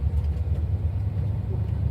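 Classic Mercury car engine in Lecompte rumbling steadily at close range with a long-throw manual shifter, a continuous low drone as it shifts into second gear.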